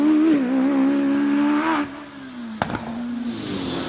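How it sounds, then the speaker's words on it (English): Hillclimb race cars at a Loton Park championship meeting, including a 1300cc supercharged Force TA, drone and whir past at a distance, engine pitch rising and falling, with a sharp clatter midway. "can hear a lot of cars."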